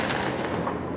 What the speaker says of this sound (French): Barricades improvisées et tirs sur les forces de l'ordre.